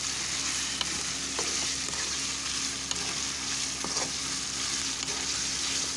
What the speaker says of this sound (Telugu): ఇప్పుడు టమాటా మొత్తం కూడా బాగా కలిసే విధంగా గరిటెతో ఈ విధంగా కలిపేసేయండి